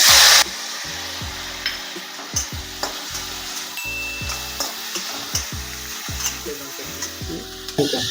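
Veg hakka noodles are stir-fried with soy sauce in a hot pan, giving a steady close sizzle broken by repeated scraping and tossing knocks of the utensil, with no talking.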